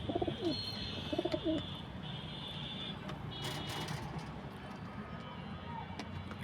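Pigeons coo in short soft bursts near the start, then fade under steady outdoor background noise, with faint chirps and a thin high tone running through; gift pigeons kept by a fancier.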